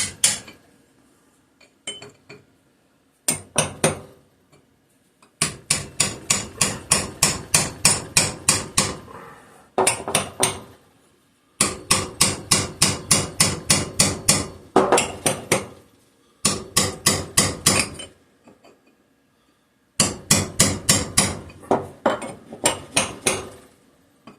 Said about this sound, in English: Let's jam that chisel back in there. Start hammering this back on.